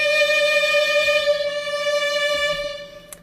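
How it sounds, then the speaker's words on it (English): A sustained note from the Embertone Friedlander solo violin ensemble, noticeably out of tune. It rings loud and close, then fades out near the end with a short click. "it's quite noticeable and sounds a lot out of tune."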